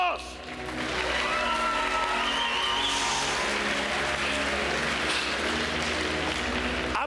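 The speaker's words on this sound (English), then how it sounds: "Give yourself a big round of applause." Audience applause fills a presentation hall, a steady broadband wash of clapping sustained from start to end, with music playing beneath and some tonal whoops or voices mixed in.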